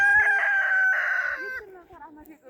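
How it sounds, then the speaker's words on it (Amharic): A chicken at a small homestead gives a loud, drawn-out crowing call close by, then trails into softer clucks and scattered faint sounds. "ዶሮ እየጠበቀኝ ነው።"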